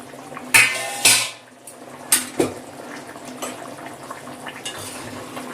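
A wok lid is lifted off a pot of simmering chicken curry made with light spices, then a spoon stirs it. Two loud metallic clanks come first, followed by scraping knocks and softer clinks over a steady low bubbling.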